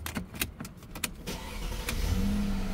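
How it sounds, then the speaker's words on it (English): A 2006 Mercedes-Benz S430 4Matic is started from inside the cabin. Clicks and button presses come first, then the engine catches and settles into a steady, smooth rumble that builds toward the end. "start the car."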